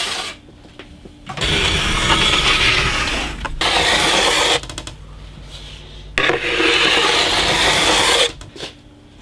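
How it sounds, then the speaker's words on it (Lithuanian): A hand file is drawn along a ski's steel edge from tip to tail at about a one-degree bevel, giving three long, loud rasping strokes with short quiet pauses between them and no talk. "Ir pradedame galąsti nuo slidės priekio į slidės galą."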